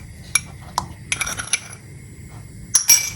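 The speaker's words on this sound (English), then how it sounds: "I'll go ahead and add my rice in" Wild rice poured into a metal pot, a few sharp clinks and rattling grains striking the pot in short bursts, close and fairly loud with quiet pauses between.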